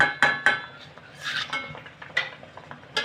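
Boiled litti lifted from water onto a metal plate, with a few sharp metallic clinks and scrapes of a utensil against the plate, then softer clatter and a final tap. No one speaks.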